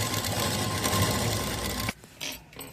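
Sewing machine stitching the folded neckline of a Y-neck school uniform, a steady loud mechanical whir running continuously before stopping abruptly, followed by a couple of brief handling noises.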